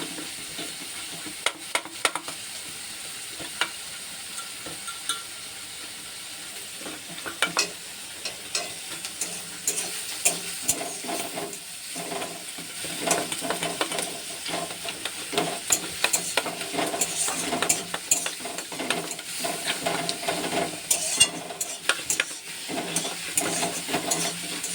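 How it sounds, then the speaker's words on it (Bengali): Onions frying in a pan with salt give a steady, moderate sizzle broken by frequent stirring scrapes and clicks throughout. "ভাজা হতে থাক, লবণ দিয়ে দিলাম, পেঁয়াজটা তাড়াতাড়ি হয়ে যাবে।"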